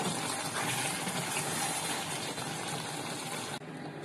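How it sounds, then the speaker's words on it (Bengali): Water gushes steadily into a pan of braised chicken curry, a close, continuous pouring rush that cuts off near the end. "ঝোলের পানি দিয়ে দিলাম।"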